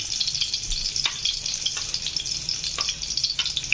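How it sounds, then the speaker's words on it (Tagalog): Garlic sautéing in a pan for chicken kinamatisan, a steady close sizzle and crackle with occasional spatula scrapes and stirs, no voices. "gisa muna tayo ng bawang"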